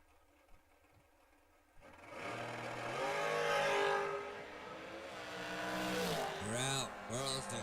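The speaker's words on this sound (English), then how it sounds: "Probably one of the quietest, fastest little Chevy Novas there is." A Chevy Nova drag race car at a memorial drag racing event accelerates hard, its engine rising and falling in loud, sweeping revs after a quiet start, with voices heard around it.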